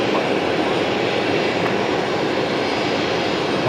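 Fokker airliner taxiing at Brisbane Airport, a steady loud broadband engine roar with a constant rumble and no break for the whole stretch.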